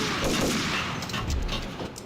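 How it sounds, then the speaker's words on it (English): Gunfire in the video game Max Payne, a quick, dense burst of shots, loud and close with rapid overlapping reports, filling the short moment. "You hear gunfire."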